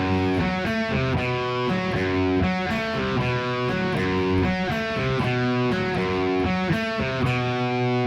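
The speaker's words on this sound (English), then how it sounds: "Now the pre-chorus comes in with a riff that sounds like this." A distorted electric guitar chugs through the pre-chorus riff of a song, a steady, loud stream of palm-muted picked notes and power chords with no voices over it.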